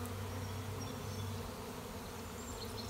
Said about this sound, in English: To have a swarm this late in the season is not a good thing